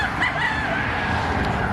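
Farm chickens and roosters cluck and give a short crowing call close by, a brief run of bird sounds over low background noise.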